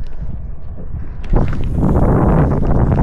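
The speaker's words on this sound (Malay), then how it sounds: "So kalau kau dengar, angin agak kuat juga petang ni." Strong wind buffets the microphone outdoors on a fishing raft at Telok Sengat, a steady broadband roar that swells louder partway through, with faint knocks in the background.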